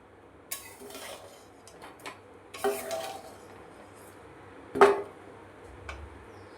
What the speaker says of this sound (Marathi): आता यांना मी एका ताटामध्ये काढून घेते.